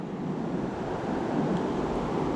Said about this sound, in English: Fast moving river.